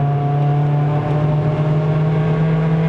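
Engine of a Toyota Vios 1.5J NCP93 with a five-speed manual gearbox, heard from inside the cabin on a mountain climb to Genting in Malaysia: a loud, steady droning hum that holds at high revs throughout, with no talking.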